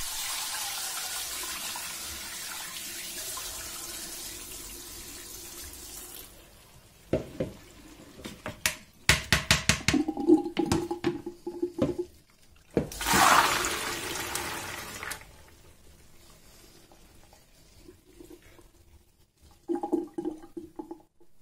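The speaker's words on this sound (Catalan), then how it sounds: "El dia següent escorrem l'aigua." Water drains from a large pot of soaked dried white beans, first as a continuous pouring rush, then as a series of uneven splashes and glugs with pauses, close by and without speech.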